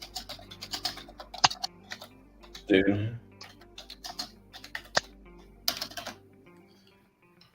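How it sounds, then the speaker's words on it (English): Typing on a computer keyboard during a live stream produces quick, irregular clicks and clacks close to the microphone, with a brief spoken word partway through. "Can you guys hear my keyboard when I'm typing?"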